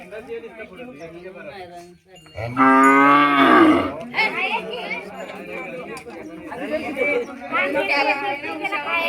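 A bull bellows one long, loud moo at close range during the Bail Pola festival in a Satara village, surrounded by chatter from people gathered around the animals.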